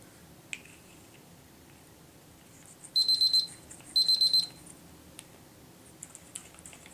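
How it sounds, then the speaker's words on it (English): A kitchen timer alarm sounds during watercolor paint making, giving two short bursts of rapid, high beeping about a second apart, fairly loud against a quiet room with a few small clicks. "It's my timer telling me I have about 5 minutes left."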